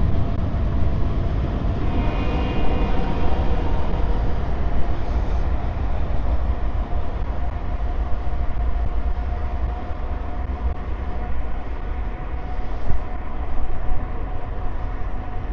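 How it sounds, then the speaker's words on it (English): A train passes near a mixed-surface bike route around Fort Worth and Roanoke, heard as a loud, continuous rumble and roar that holds steady for the whole stretch. "There's the train."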